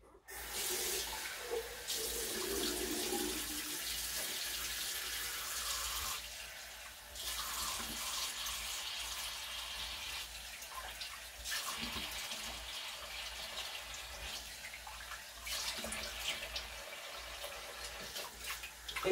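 Tap water runs steadily into a sink during face rinsing in a nighttime skincare routine, a continuous close splashing hiss lasting the whole stretch with brief shifts in flow and no talking.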